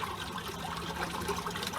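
Water trickling steadily through the holes of a concrete block, a soft, even dribbling wash that runs without a break, fairly quiet and heard alone.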